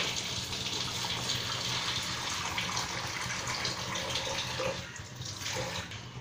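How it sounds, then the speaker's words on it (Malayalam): Coconut milk pours steadily into a pot in a continuous gushing stream, close by, with no talking. "ഞാൻ ഒഴിക്കാൻ പോണത് മൂന്നാം പാലാണ്"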